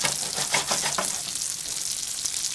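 A ham steak brushed with dijon remoulade and crusted in panko and Italian bread crumbs fries in a pan, giving a steady, close hiss and crackle of sizzling fat with no talk.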